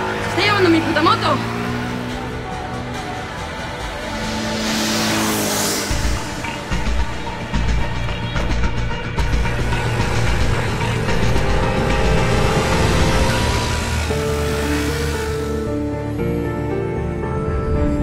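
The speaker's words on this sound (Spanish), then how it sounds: "¡Se está llevando mi puta moto!" A motorcycle engine revs and roars, its pitch climbing as it speeds off, under excited shouting voices.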